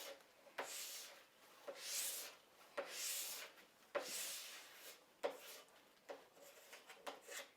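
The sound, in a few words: plastic scraper scraping wax off ski base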